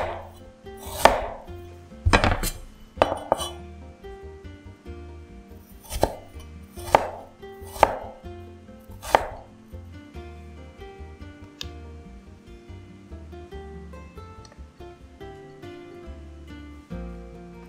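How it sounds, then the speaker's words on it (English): A knife julienning ginger on a chopping board, with sharp, irregular chopping taps in short bursts, clear and close, tapering to softer sporadic knocks. "Julienne some ginger and sprinkle them onto the fish as well."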